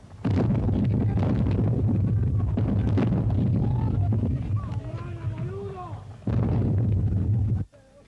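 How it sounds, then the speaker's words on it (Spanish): Artillery cannons fire in a wartime duel during the Falklands War, with heavy booming blasts and rumbling over shouted voices, nearby and loud, then a lull before another burst. "Comienza el desigual duelo de artillería."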